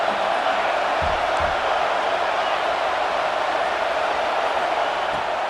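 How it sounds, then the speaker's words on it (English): Stadium crowd in EA Sports College Football 26 roaring as a steady, dense wash of cheering noise that holds at an even level throughout, with no talk on top. "this crowd is turning it up a notch"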